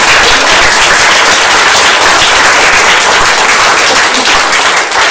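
Warm round of applause from an audience at a law and policy lecture welcoming a voting-rights speaker; dense, loud, steady clapping fills the whole stretch without pause.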